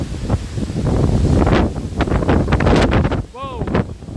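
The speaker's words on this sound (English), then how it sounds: "when a tropical wind gust or a hurricane force wind gust comes up" Hurricane-force wind gusts at Magic Kingdom, Florida, roar and buffet the microphone loudly and continuously, with surging bursts and a brief vocal sound near the end.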